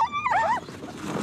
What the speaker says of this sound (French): Ces mushers veillent à préserver cette race, les huskies d'Alaska.